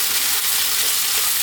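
Chili hits a hot pan for a beef and eggplant stir fry with oyster sauce, giving a steady, loud, close hiss of frying oil that holds even and unbroken throughout, with no voices.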